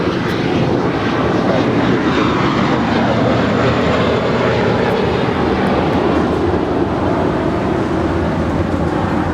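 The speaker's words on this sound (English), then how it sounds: "Dreamliner making that left-hand turn on to Bravo, now making her way down for 8 departure back to Tel Aviv" A Boeing 787 Dreamliner taxiing at LAX swings left onto a taxiway, its engines making a loud, constant rushing roar that stays close and unbroken throughout, with no talk over it.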